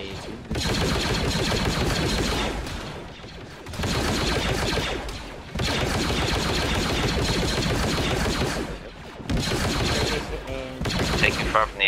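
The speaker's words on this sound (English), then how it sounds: "So I'm just firing a cannon on that hill to our left." Heavy cannon and gunfire from a Star Wars combat game boom out in dense, sustained volleys, with four long loud bursts separated by brief gaps.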